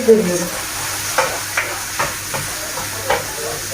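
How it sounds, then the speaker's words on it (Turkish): Rice toasting in a hot pan hisses and sizzles quietly while a spoon scrapes through it in a handful of spaced stirs, close by; a brief voice sounds at the very start. "Pirincimi de atayım hemen. Güzel kavrulsun."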